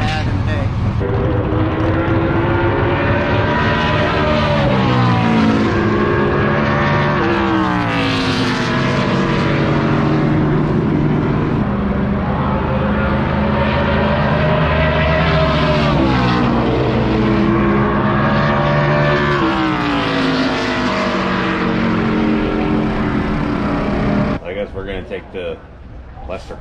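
A classic NASCAR stock car engine at Rockingham Speedway roars loud and close, its pitch climbing and falling through repeated gear changes for most of the run before cutting back near the end.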